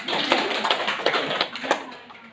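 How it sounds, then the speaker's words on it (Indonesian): A short burst of applause for a teacher in a classroom, several hands clapping irregularly at close range for about two seconds before fading. "Tepuk tangan kepada Bapak."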